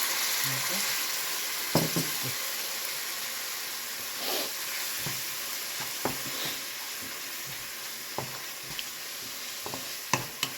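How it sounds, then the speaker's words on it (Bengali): Spice paste for egg curry frying in hot oil, a steady close sizzle with occasional scraping stirs and clinks of a spoon against the pan, no talking. "এবার মশলাটা দিয়ে ভালো করে কষে নিতে হবে।"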